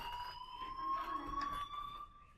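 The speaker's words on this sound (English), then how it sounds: "Hey, do you hear that fire alarm?" A fire alarm rings inside the video game Life is Strange, a steady electronic tone held for a couple of seconds at moderate loudness with faint background ambience and no talking.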